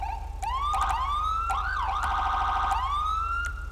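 A video game police siren wails loudly and close, cycling through rising sweeps and a rapid warbling yelp over a low engine hum.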